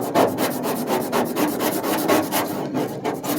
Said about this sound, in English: I'm going to scrape each and every inch of it to get the surface as clean as possible